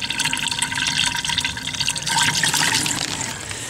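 Water rushes and splashes as a municipal water distribution line is refilled at its end hydrant, a continuous churning flow with dripping and gurgling texture, loud and close throughout.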